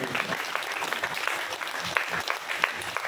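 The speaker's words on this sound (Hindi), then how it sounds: "तालियां बजा दीजिए" An audience at a Hindi poetry recitation claps loudly, a dense, steady patter of many hands with scattered sharper claps, sustained throughout with a faint murmur of voices underneath.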